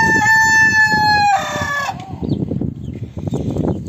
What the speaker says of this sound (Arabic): هذا بنات الكتاكيت